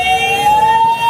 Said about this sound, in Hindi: बीच में एम्बुलेंस को भी वहाँ पर निकाला गया